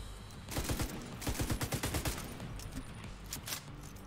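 Shotgun fire in the video game Division 2: a rapid run of loud, close blasts, then scattered, fainter shots with game ambience between them.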